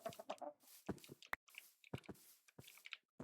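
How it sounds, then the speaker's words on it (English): A chicken in Minecraft makes a series of short clucks and squawks in irregular bursts, close and fairly quiet, with no voices. "there's that blue chicken again"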